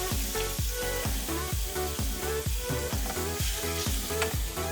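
Chilli meat frying over lowered heat as it is stirred quickly in a pan, with a constant close sizzle and rhythmic scraping strokes about twice a second.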